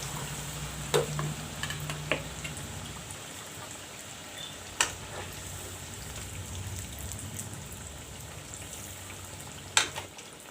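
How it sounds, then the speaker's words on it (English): Batter-dipped aloo tikkas fry in hot oil with a continuous crackling sizzle, close by, punctuated by a few sharper pops and stirring clinks. "Now I'll dip it in the batter, the aloo tikkas, and then put it in for frying."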